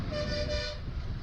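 Vehicle horn on a winding hill road to Male Mahadeshwara Betta, a single steady toot held for most of the moment before fading out over low rumbling road noise.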